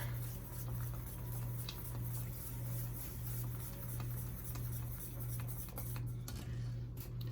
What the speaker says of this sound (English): And then whisk that in.